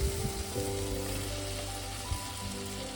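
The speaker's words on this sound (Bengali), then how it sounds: "মশলাটা আমার কষা হয়ে গেছে, তেল ছেড়ে দিয়েছে মশলাটা। এবার আমি এতে আলুগুলো দিয়ে দেবো।" Potatoes drop into spice paste cooking in oil for a Bengali prawn fritter curry, giving a steady close sizzle with a couple of soft knocks in the pan.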